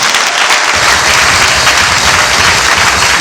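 A church congregation applauding in a steady, dense wash of clapping that fills the whole stretch, loud and close, with no break in the sound.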